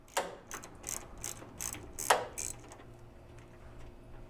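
Ratchet wrench loosening fender bolts on a 1943 Willys MB jeep, about half a dozen quick, close clicking strokes in an uneven rhythm, then quieting.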